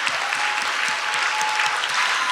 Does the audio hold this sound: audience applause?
yes